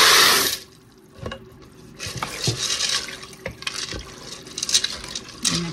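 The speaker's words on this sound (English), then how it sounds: "I'm gonna add 4 cups of beef broth and 1 pound of elbow noodles." Beef broth pours into a pot for an elbow noodle pressure-cooker dinner, a steady splashing liquid stream that starts loud, dips, then continues as uneven trickling and splattering, close and alone.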